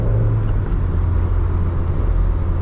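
A high-mileage Toyota MR2 with an open differential corners with slight understeer, its engine a steady, loud low rumble heard from inside the cabin throughout, with no talking.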